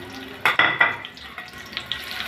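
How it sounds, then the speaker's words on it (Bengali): Chopped onion frying in hot oil in a pan with a few spices, a soft sizzle broken by a few sharp clinks and scrapes of stirring, close by and moderately loud. "ভালো করে নিয়ে ভেজে নেব"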